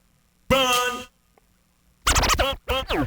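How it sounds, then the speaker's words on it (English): Live vinyl record scratching in short rhythmic bursts on The Pharcyde's "Runnin'", a long scrubbed stroke, a pause, then quick choppy scratches cutting in and out. "he added some scratches which add to that texture."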